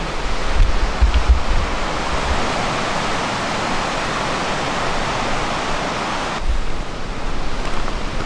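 A river flows beside a dirt road in Nepal, a steady broadband rush of water that holds constant throughout with low rumbling bumps underneath and no talk.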